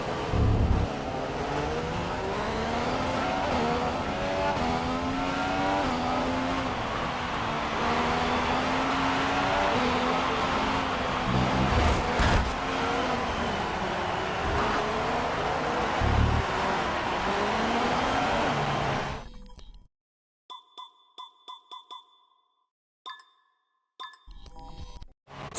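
Race car engine in the F1 2015 game, won by Nico Rosberg, screaming and climbing through gears with steady high revs for about twenty seconds before cutting to silence and brief electronic tones.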